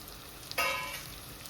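Onions fry with cloves, chilies and curry leaves in a hot pan: a quiet background, then a sudden bright sizzle bursts up and gradually settles into a softer hiss.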